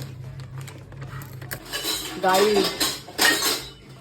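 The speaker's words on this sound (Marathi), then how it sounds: "भांडी नको वाजू" Steel utensils and dishes clatter and clang in a home kitchen during cooking, with sharp metallic clinks growing louder and denser toward the end, and a brief spoken word near the start.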